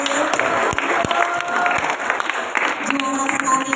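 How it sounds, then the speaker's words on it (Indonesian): Audience applause at a final round of a junior high school Indonesian-language debate competition, a steady wash of clapping throughout with a voice speaking over it. "beri tepuk tangan juga untuk Ibu Aulia"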